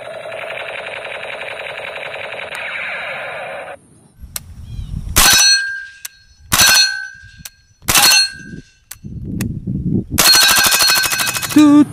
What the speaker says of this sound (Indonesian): Yang ini senapan Kapten Amerika.